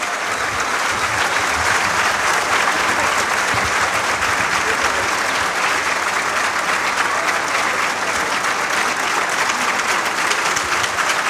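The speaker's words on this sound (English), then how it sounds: "A big round of applause to usher in for his remarks." A large indoor audience at a university speaker series gives a long, loud, sustained round of applause, dense and steady for over ten seconds.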